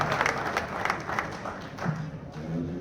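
An audience applauds at a bowling association hall of fame induction ceremony, moderate scattered clapping in a hall with some voices mixed in.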